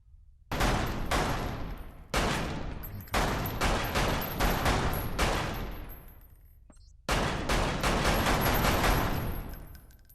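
Rapid bursts of gunfire from the Lethal VR video game, several loud volleys of shots in quick succession, each separated by brief pauses, with no talking.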